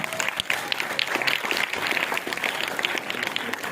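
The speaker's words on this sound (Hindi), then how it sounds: "जोरदार तालियां" Applause from a seated audience at a school prize ceremony during a foundation day celebration in Lucknow, steady dense clapping filling the hall without a break.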